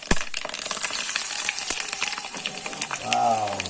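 Garlic fries in hot oil for the tempering of a basale soppu thove, a crackling sizzle with sharp pops near the start, and a voice briefly heard toward the end.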